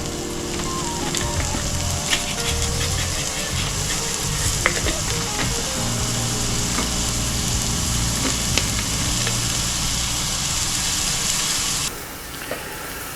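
Garlic and vegetables sizzle in a pot over medium heat, a loud, continuous crackling fry with stirring scrapes throughout, dropping abruptly quieter near the end.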